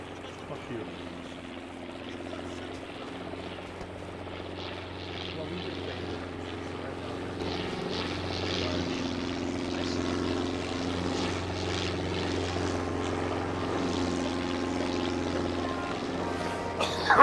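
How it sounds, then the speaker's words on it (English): Helicopter arriving in ARMA 3 during a Vietnam open-world mission; a steady rotor and engine drone slowly grows louder over about seventeen seconds while players talk over it. "Helicopter should be here."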